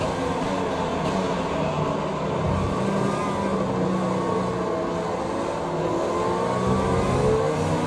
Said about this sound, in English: you can hear by the engine on Lando's car here that he is taking the course pretty conservatively